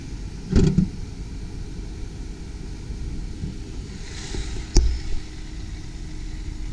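A 2007 Dodge Grand Caravan SXT idles with a low, steady hum, quiet and even, broken by a couple of brief louder knocks or clicks nearby.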